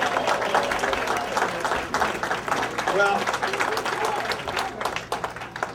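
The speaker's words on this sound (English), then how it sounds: "Give them a round of applause, please." Audience applause at a VFW gathering in Somers Point, New Jersey, a dense steady clapping from a crowd filling the room, with a voice speaking over it near the end.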